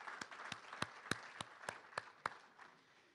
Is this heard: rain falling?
no